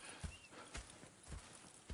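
Horse hooves clip-clop at a steady walking pace in Red Dead Redemption 2, with soft, evenly spaced thuds heard at a distance against quiet ambience.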